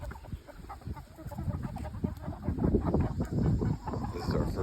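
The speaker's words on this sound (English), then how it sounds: "There's the rest of the flock." A flock of adult chickens with young chicks on their first outing together, soft overlapping clucks and murmuring fowl calls close by, steady and busy throughout.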